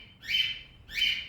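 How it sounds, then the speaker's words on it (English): A pet bird gives two short, bright chirps about half a second apart, clear and near in an otherwise quiet room. "my bird is somehow signaling something to me again"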